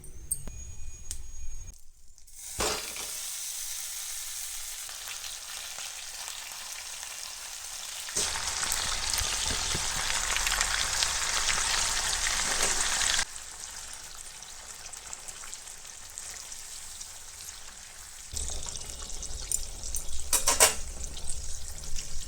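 Butter cream sizzles in a pan while being cooked down into ghee, a long continuous frying hiss that swells louder in the middle stretch and shifts abruptly in intensity, heard close with no talking.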